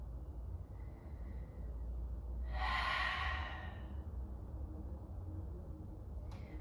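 A deep breath drawn and released during a vinyasa yoga flow, one broad airy swell of breath rising in the middle of the stretch above a low, steady background hum, fairly close and unhurried.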